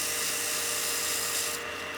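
Sandpaper rubbed by hand over the notch of a turned wooden whistle gives a steady, close, hissing scratch that continues evenly and eases slightly near the end.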